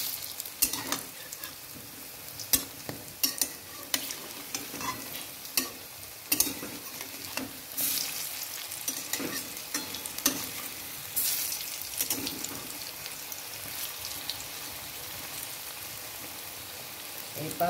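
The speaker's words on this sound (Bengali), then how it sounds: "এপাশ ওপাশ ভালো করে উল্টে ভেজে নেব।" Red lentil fritters frying in a pan, a steady crackling sizzle throughout with scattered sharper pops and stirring clinks, close and fairly loud, no talk.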